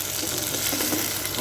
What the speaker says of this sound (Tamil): இது நல்லா கொஞ்சம் வணக்கி விட்டுருலாங்க.